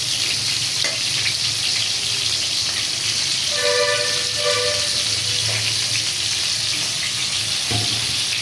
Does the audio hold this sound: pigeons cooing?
no